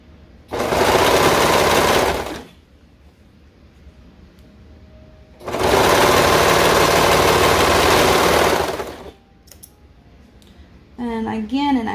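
A sewing machine stitches the front curve of ruffle shorts in two sustained buzzing runs of about two and three seconds, with quiet pauses between and a brief voice near the end.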